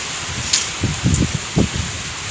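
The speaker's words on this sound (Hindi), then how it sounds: "कितनी तेज़ बारिश हो रही है।" Heavy rain pours steadily outside a home in India during a flooding downpour, a dense close hiss with a few soft rustling bumps over it and no voices.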